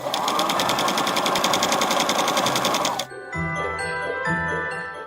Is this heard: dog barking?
no